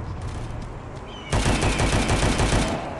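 Rapid automatic gunfire from the mobile shooter game Guns of Boom, starting quieter then bursting into loud, sustained machine-gun fire with dense repeated shots.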